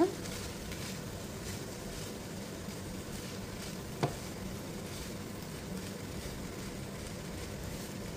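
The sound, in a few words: stirring boiled rice into garlic turmeric mixture in pan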